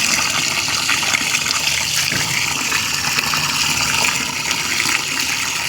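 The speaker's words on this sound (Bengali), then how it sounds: "আমি এখন ছাদে জামা প্যান্ট কটা ধুচ্ছি" Clothes being washed with tap water on a sunny rooftop: a loud, continuous rush and splash of running water fills the whole stretch without a break.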